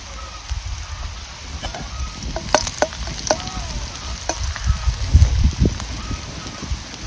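Chicken for a Maharashtrian sukka dish sizzles loudly in a pan as garlic and coconut go in, with scraping stirs and sharp spatters over a steady frying hiss, close up and with no talking.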